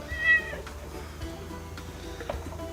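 A cat gives a short, clear meow near the start, then only quiet background noise follows.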